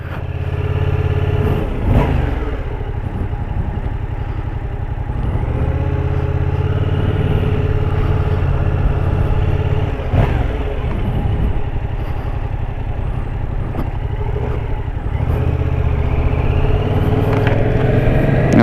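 A 2016 Yamaha MT-07 motorcycle engine revs and accelerates repeatedly in first gear to about 6,000 rpm, loud and close, rising in pitch with each pull and dropping between shifts.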